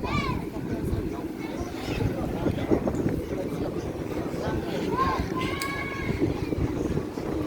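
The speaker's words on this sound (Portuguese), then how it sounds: "Nossa, que vento." Strong wind buffets the microphone at a beach in Peruíbe on the southern São Paulo coast, a steady low rumbling roar throughout, with voices talking over it.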